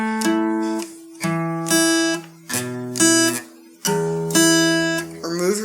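Acoustic guitar fingerpicking a song pattern, with clear repeated phrases of ringing picked notes over open strings, played close and alone with short pauses between phrases.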